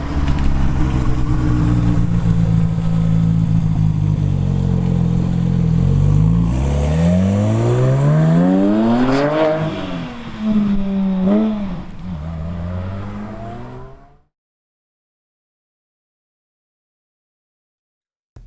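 A high-powered car at a Swedish car meet idles with a deep rumble, then revs hard several times in rising, falling sweeps, loud and close, before cutting to silence.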